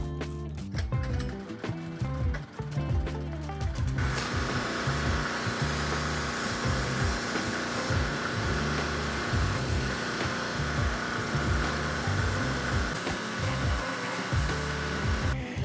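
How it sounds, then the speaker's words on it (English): Pressure washer spraying wooden boards in a backyard, a loud continuous broadband hiss of the water jet over the machine's motor drone, steady throughout after a rougher start. "I finished pressure washing the area"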